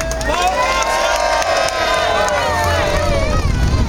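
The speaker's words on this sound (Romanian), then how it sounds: "Aplauze pentru Botoșani!" A crowd cheers and shouts loudly and continuously at a Roma rights rally outside the Parliament, with overlapping voices filling the whole stretch.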